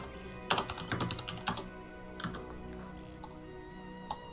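Someone types on a computer keyboard in quick bursts of clicky keystrokes, close and clear, with pauses between clusters and a few isolated taps later on.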